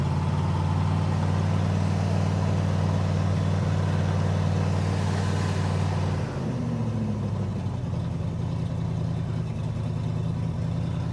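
A 1978 Ford F-250 truck engine idles on its own with a steady, deep rumble that holds even for several seconds, then wavers briefly before settling back into a smooth, constant idle.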